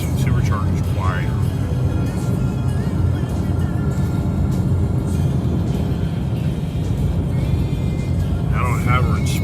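A 2020 Ford Mustang GT500's supercharged engine hums at cruising speed in normal mode on a highway, a steady low drone with road noise inside the cabin while someone talks over it.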